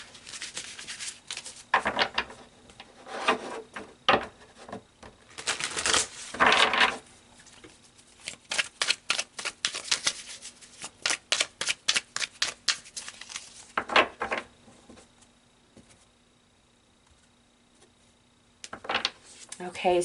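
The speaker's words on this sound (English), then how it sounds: "So let's pull some oracle cards and see why that is." Oracle cards are shuffled and pulled in close, rapid riffling bursts, crisp papery flutters repeating in uneven clusters with short pauses between them.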